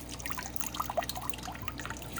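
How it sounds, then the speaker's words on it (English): Water drips and trickles steadily while fish are drip-acclimated for an aquarium, with a few distinct single drops standing out over a faint continuous flow, close and quiet, no talking. "Starting to turn into just a drip."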